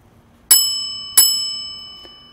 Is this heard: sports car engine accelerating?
no